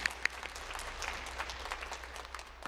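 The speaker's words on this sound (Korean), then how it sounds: "우리 하나님 앞에 영광의 박수를 보내겠습니다." A church congregation claps together, a soft, scattered applause of many hands that stays fairly quiet and fades gradually over a few seconds, with no speech over it.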